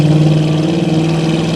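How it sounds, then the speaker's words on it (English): A 1976 Chevrolet C10 pickup's V8 running through dual knockoff Flowmaster-style mufflers and tailpipes, a loud, close, steady low rumble with strong droning tones and no voices. "the exhaust sounds great"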